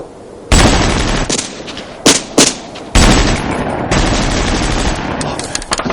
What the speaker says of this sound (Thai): มันกำลังยิงกันเองอะ ฉอันว่านั่นต้องพวกเดียวกับเราแน่ ๆช่วยยิงคุ้มกันก่อนแล้วก็ ยิงคุ้มกันเข้ามาในป่าเร็ว